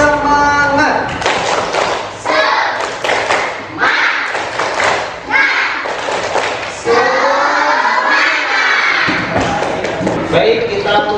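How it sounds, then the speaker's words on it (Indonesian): A classroom of students doing a tepuk semangat spirit clap, loud rhythmic bursts of unison clapping with chanted voices between the clap patterns, repeated several times. "kita tepuk semangat dulu"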